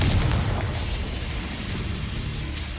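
Confringo fire spell exploding in the Hogwarts Legacy video game: a dense, loud, rumbling blast that opens strongest and fades only slightly as it roars on steadily throughout.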